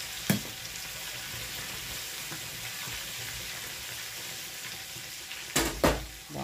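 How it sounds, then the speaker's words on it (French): Potato and turkey balls coated in sesame frying in a pan, a quiet even crackling sizzle with a couple of louder knocks and scrapes near the end as they are handled, nobody speaking. "Donc, je laisse cuire de l'autre côté aussi, l'autre face."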